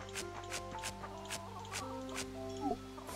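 Chicken clucking in the farming video game Fae Farm, soft repeated clucks in a steady pattern over looping background music, fairly quiet.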